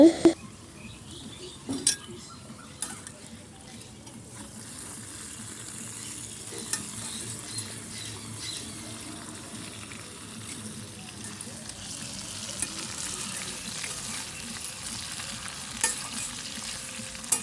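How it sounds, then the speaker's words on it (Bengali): Potatoes fry steadily in a pan, with a continuous sizzle under occasional clinks and scrapes of a stirring utensil against the pan, close by and at an even moderate level throughout. "আলুটা কিন্তু ভাজা পার হয়ে যাচ্ছে"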